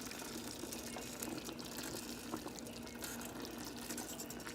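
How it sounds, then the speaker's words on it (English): Mustard and turnip greens boiling in a pot on the stove, a steady, faint bubbling and simmering hiss that continues without pause and without any voices. "Our greens have been boiling for about 45 to 50 minutes."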